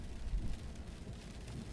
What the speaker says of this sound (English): Why does it have to rain and be so foggy?